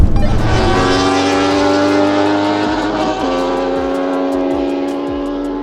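A 570HP McLaren and a 200HP Yamaha R1-engined superquad roar past in a drag race, a loud, dense engine rush with shifting pitch and gear changes, close by and steady with no talk.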